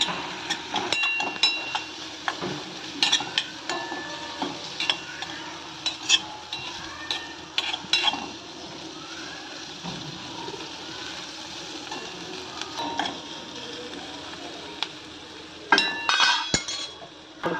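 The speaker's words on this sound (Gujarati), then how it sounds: "ચચડવા માંડ્યું છે એટલે થોડુંક સ્વાદ પ્રમાણે નિમક નાખી દઈ. નિમક નાખી અને થોડુંક હલાવી" Carrot, cabbage and corn saute in a pan and are stirred for a drumstick soup, with frequent sharp clinks of a utensil against the pan over a low sizzle, in irregular bursts.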